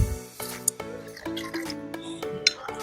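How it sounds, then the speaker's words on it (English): Warm water poured into a bowl of yeast and sugar for Turkish bread dough, heard as close liquid drips and splashes with a faint clink, alone over steady harmonic background music. "add in 2/3 cups of warm water"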